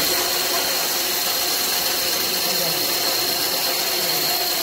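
A waste-plastic brick making machine running, a loud steady mechanical drone with faint rattling that holds constant throughout.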